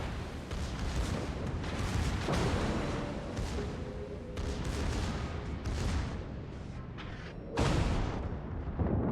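A battleship in the World of Warships video game firing armor-piercing shells: heavy booming gunfire and rumbling blasts in a dense, loud sequence, with a sharper report near the end.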